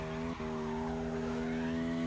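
A Ford Fusion with a 6.2 litre engine drifting in the video game CarX Drift Racing 2, a loud, steady engine drone with a sustained tyre squeal, a brief dip near the start.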